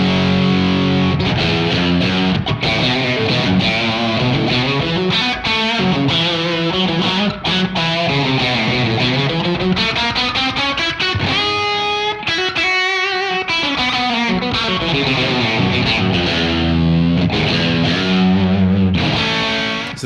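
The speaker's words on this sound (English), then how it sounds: "Throwing on a bit of the thunderclaw to get that dirty fuzz room sound" Guitar fed through Keeley Thunderclaw fuzz into a Keeley Hydra room reverb, giving a dirty, saturated tone; continuous loud chords and melodic lines ring out with a short room tail throughout.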